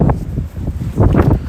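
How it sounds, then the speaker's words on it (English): Cold night wind gusting on a New York City street in winter, buffeting the microphone in loud, irregular low rumbles with no voices. "Ooh, it's cold and windy."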